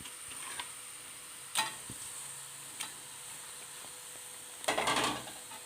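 Marinated chicken tipped into a hot pan gives a soft, steady sizzle close by, with a few scrapes and clinks of utensils and a louder burst of spattering near the end.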